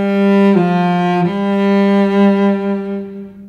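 Solo cello bowing the opening bar of a song: three sustained, slurred notes with a clear change after about half a second and another near 1.3 seconds, close and resonant, fading gently.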